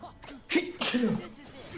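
A single sharp sneeze bursts out amid late-night Kingdom Hearts 2 play, with a voice speaking briefly around it.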